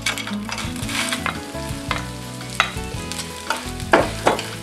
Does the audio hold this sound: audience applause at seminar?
no